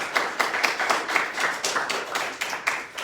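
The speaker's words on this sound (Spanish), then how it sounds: "le damos un aplauso" Light rhythmic clapping from a small lecture audience thanking a speaker at a conference, individual claps distinct and fairly regular, moderately quiet with no talk.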